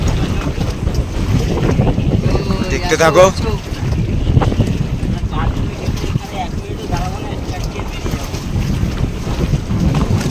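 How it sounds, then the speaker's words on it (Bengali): Strong river waves slosh and slap against a small fishing boat on a Sundarbans river, with gusty wind buffeting the microphone throughout, while someone speaks briefly over the steady rough water. "বন্ধুরা এত ঢেউ হচ্ছে, নৌকার পরে দাঁড়ানো যাচ্ছে না"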